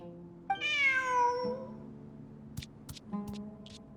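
A cat in the Genshin Impact video game lets out one long, clear, bending meow up close, followed by a shorter call and a few soft clicks over a quiet tonal hum.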